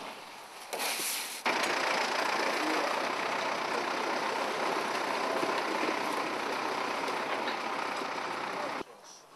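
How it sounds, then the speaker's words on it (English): A truck engine idling early in the morning as it arrives to collect Christmas trees bound for London, a steady broadband rumble that starts abruptly after a brief lead-in and holds until it cuts off near the end. "a truck comes to collect the trees to take them into town"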